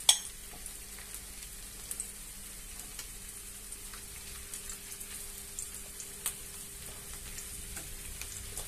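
Homemade mini meatballs fry gently in a pan, a faint, steady crackle with scattered soft pops and a sharper tick near the start, quiet and close with no speech.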